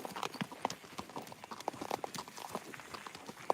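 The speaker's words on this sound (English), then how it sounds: "I only go hiking on 4 hooves." Horses walk along a hiking trail, their hooves clip-clopping in an uneven, close rhythm with sharp individual strikes and no talking over them.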